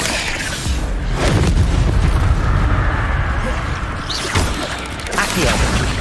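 A fire spell, Incendio, cast in Hogwarts Legacy: a loud, roaring burst of flame rumbles steadily for several seconds, with a voice faintly underneath.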